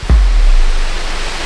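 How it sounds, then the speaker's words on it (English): Waterfall in an Upstate New York gorge, heard as a loud, steady rush of broadband water noise that rises abruptly after a brief low thump and continues unbroken. "we just reached the 3rd waterfall of the day"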